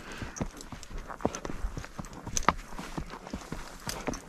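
A filly's hooves clop at a walking pace, a steady run of light, close knocks on the ground over soft background noise.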